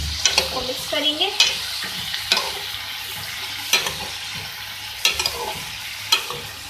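A spoon scrapes and stirs round-sliced ridge gourd with fried onions in a hot pan, producing several distinct scraping strokes at irregular intervals over a soft continuous sizzle, close and fairly loud, with no speech.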